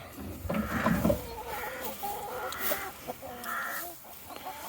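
Chickens cluck and squawk close by at a new port feeder on an Irish homestead, with several bursts of clucking over a few seconds and no talk.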